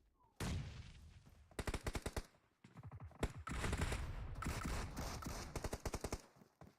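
Grenade blasts and bursts of automatic gunfire in a competitive battle royale esports scrim match, with loud rapid volleys, sharp single explosions and a sustained roar of combat through the middle, no talk over it.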